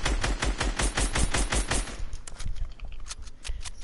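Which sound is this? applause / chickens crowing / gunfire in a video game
gunfire in a video game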